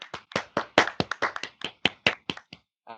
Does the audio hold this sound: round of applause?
yes